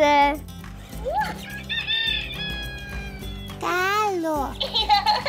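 A Luvabella baby doll toy plays a rooster crowing sound, a loud, bright electronic cock-a-doodle-doo heard twice near the end, among other playful chirps and animal-like toy noises, with someone speaking between them.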